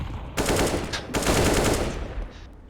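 Two quick bursts of rapid automatic gunfire in the video game CS:GO, close and loud, the second burst a bit longer before the sound tails off.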